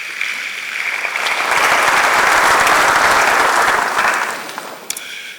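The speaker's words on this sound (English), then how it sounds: "Shall we do a big round of applause for that?" A large audience at a university honours ceremony for a lawyer and public servant bursts into a sustained round of applause, swelling to a dense peak of clapping before tapering off near the end.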